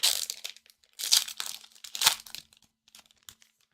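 Foil booster packs of Lorcana trading cards being torn open at close range, a few bursts of sharp crinkling and ripping separated by brief pauses, with no talk.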